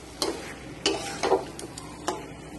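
Chili chicken is sautéed and stirred in a pan under a soft steady sizzle, with a handful of sharp scraping and clacking stirs spaced irregularly.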